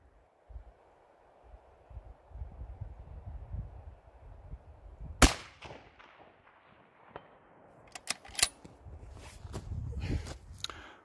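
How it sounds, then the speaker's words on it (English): A rifle shot rings out at the range and strikes a steel plate, a single sharp crack followed a few seconds later by several bright metallic clangs and rattles. Quiet shuffling and footsteps surround it. "And we're ready to take our first shot with the level perfectly centered."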